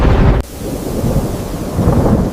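Thunder rolling ahead of rain, a loud, steady low rumble that fills the whole stretch, with a sharp drop right after the start and a swell again near the end, no voices.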